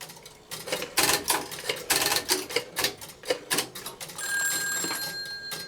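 Dialing 2311 sets off a Strowger step-by-step telephone switch: bursts of rapid mechanical clicking and ratcheting come in quick groups, followed by a steady ringing tone toward the end.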